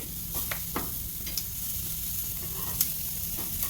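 Chicken on a BBQ grill, sprayed with avocado oil, sizzles steadily as it is flipped, with a constant hiss and a few light scraping clicks of the tool, close and continuous, no talking.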